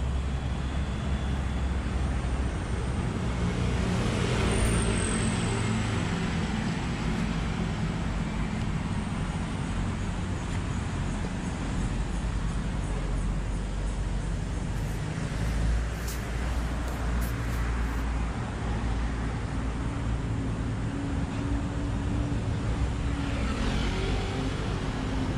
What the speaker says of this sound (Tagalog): Etong Quezon Bridge, syempre walang stoplight yan. So talagang tuloy-tuloy ang daloy ng sasakyan.